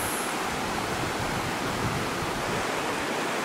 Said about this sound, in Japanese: 龍勢の滝でございます。